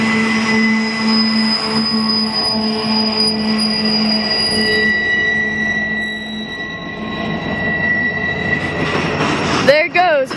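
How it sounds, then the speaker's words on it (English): A southbound Union Pacific container freight train rolls past close by, rumbling steadily with high metallic squeals from the wheels, then a sharp screech and clank near the end. "Another Union Pacific container train, finally southbound, with a very friendly conductor."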